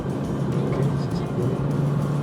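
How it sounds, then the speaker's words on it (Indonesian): Compact SUV, either a Zeekr 7X or a Geely Coolray, accelerating on the Mandalika circuit, heard from inside as a steady, muffled engine and road drone without distinct peaks. "sekarang kita mau tes akselerasi nih"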